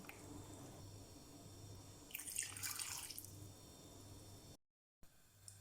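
Water runs and splashes into a pot of small-cut pumpkin pieces, a steady watery trickle with a brighter gush of pouring midway, then a brief silence before faint kitchen noise resumes.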